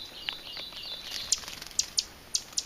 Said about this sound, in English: There's a small bird down here. I think it's a baby.